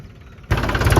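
A tractor engine abruptly roars up halfway through, a loud, close, steady mechanical rumble following a quieter idle.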